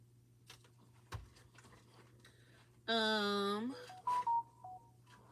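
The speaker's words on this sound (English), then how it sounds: "I'm getting all kind of notifications." Phone notification tones sound in a quilting room while seams are steam-pressed: a loud, bright buzzing-chime tone lasting under a second, then two short beeps and a fainter tone, over a steady low hum.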